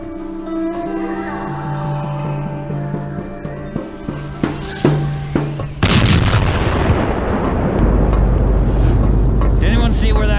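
A cannon shot strikes a ship in an audio-drama effect: a sudden loud crashing boom breaks through tonal background music, followed by a long roaring, debris-filled decay and a deep low rumble as a voice speaks under it.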